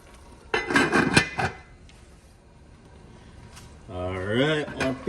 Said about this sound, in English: Now I'm going to cover the pot for like 5 minutes.